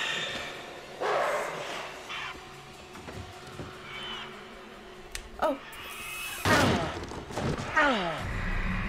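Dog barking in the Until Dawn video game, several sharp barks and yelps bursting out over tense game sounds, with a player talking anxiously in between.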